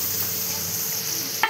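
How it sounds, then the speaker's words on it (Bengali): Mutton being stirred and fried with tomato and spices in hot oil in a pan, a steady close sizzle with soft scraping stirs and a small clatter at the end. "টমেটো দিয়ে ভালো করে নাড়িয়ে চাড়িয়ে এই যে মাংস কষানো হচ্ছে।"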